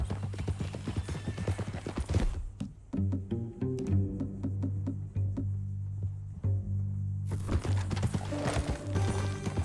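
Horse hooves clip-clop steadily at close range in the Red Dead Redemption 2 video game, a continuous rhythmic clatter that briefly drops to a quieter passage of tonal music before the hoofbeats return at full strength.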